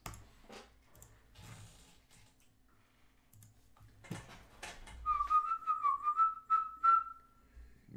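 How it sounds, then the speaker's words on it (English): A strong, wavering human whistle rings out for about three seconds, loud and close, following quieter clicks and shuffling of a trading card box break. "Man, that was a strong whistle."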